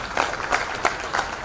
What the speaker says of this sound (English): I think he deserves a much louder applause than this